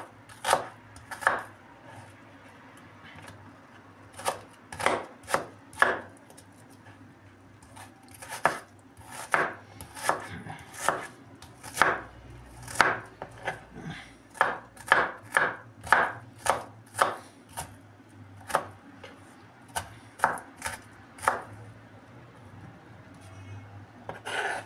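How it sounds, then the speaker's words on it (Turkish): A knife chops onions on a cutting board in steady, rapid taps, dozens of close crisp strikes with brief pauses between runs. "hepsi doğrandı. Şimdi de soğanında sıramız."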